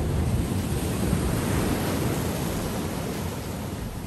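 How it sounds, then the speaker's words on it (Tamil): Ocean waves surge onto a beach at Kuantan, Pahang, a continuous loud roar of surf with heavy wind buffeting the microphone and no voices. "பாருங்க அந்த அலை பாருங்க எவ்வளோ தூரத்துக்கு வருது"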